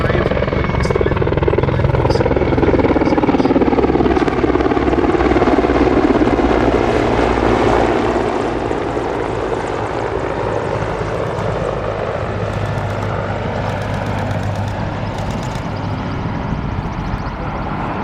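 Czech Air Force Mi-35 attack helicopters, an export version of the Mi-24V, fly at the 2022 Duxford airshow with a loud, continuous rotor and turbine roar that holds steady throughout, broad and slightly fading toward the end.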